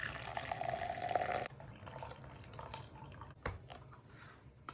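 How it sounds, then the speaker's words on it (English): Hot noodle cooking water for Buldak carbonara is poured off into a cup, a soft trickling splash that stops abruptly, followed by faint drips and small clatters in a quiet kitchen. "Just gonna drain the liquid into this cup."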